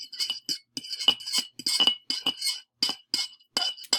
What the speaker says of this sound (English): it took at least 20 seconds of stirring for the salt to be completely dissolved in the vinegar